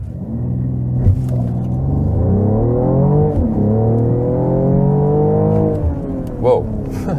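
Mercedes-AMG GLE53 Coupe accelerating hard from standstill to 90 km/h, engine tone climbing steadily through the gears with brief dips at shifts, loud and close from inside the car.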